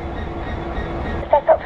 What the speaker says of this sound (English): Set up for shunting and reverse the train through the discharge facility to get these wagons unloaded.